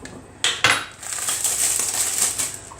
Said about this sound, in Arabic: هحط له الاول الملح.